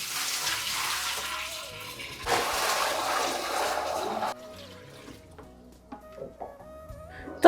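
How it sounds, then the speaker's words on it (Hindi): A full bucket of water is poured down a blocked bathroom drain, making a loud rushing gush for about four seconds that stops abruptly, followed by quieter dripping and small household knocks. "पूरी बाल्टी डालूंगी, लगेगा पता फिर बाहर निकल रहा है सारा पानी कि नहीं"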